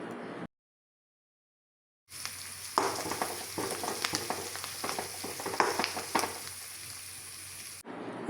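Mustard seeds, dried red chillies and curry leaves crackle and fry in hot coconut oil for a Kerala sambar tempering, a dense steady sizzle with popping, briefly cut to silence near the start.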